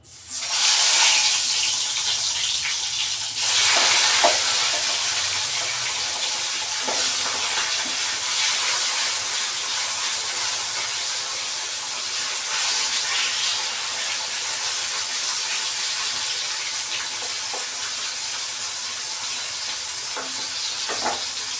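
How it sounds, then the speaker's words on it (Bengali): Broad beans (shim) frying a little at a time in a pan for shim paturi, a loud continuous hiss and sizzle with occasional stirring scrapes close by. "আমি এখন অল্প অল্প করে ভেজে নেবো"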